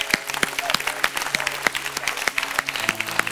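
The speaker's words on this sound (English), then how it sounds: "Give God a hand clap of praise." A church congregation claps hands in praise, with sharp, uneven claps up close over a busy background and voices calling out amid the clapping.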